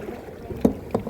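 A small boat is paddled through flood water along a highway, with two soft paddle splashes and strokes close by over a faint watery wash. No one speaks.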